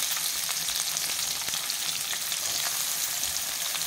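Chopped onions sauté in a pan with garlic and curry leaves, giving a continuous dense hiss of frying that stays even and close throughout, with no talking.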